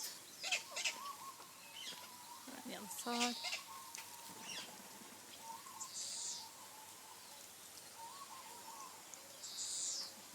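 Birds at a bird sanctuary call and cluck in scattered bursts, some chicken-like, at moderate distance, while people talk quietly nearby.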